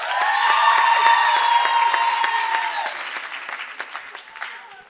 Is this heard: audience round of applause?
yes